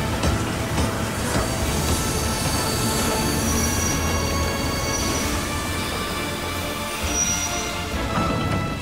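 A train pulling into Stuttgart station, a steady rumbling roll with faint wheel squeals and metallic rattles, continuous and fairly close, no voices.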